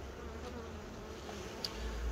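Bees hum around hives at a rapeseed field site, a steady low drone close by with no talk.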